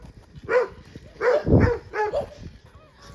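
Several dogs bark and yip close by in short bursts, some of them whimpering, with a rough outdoor mix of overlapping calls.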